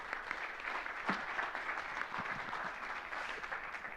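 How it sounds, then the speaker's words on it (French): Audience at a startup showcase gives a round of applause, a modest, steady patter of clapping from a mid-sized crowd that holds through the whole stretch with slight swells. "On peut applaudir Chérif"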